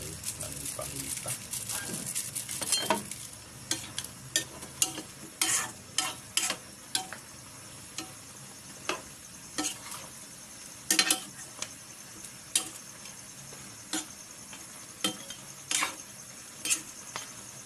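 Native chicken sautéing in its own oil in a pan, with a soft frying sizzle under repeated sharp stirring scrapes and clinks of a utensil, close and fairly quiet.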